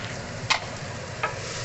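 Pork fat sizzles steadily as it fries in a pan to render its oil, a soft continuous crackle with two brief stirring scrapes.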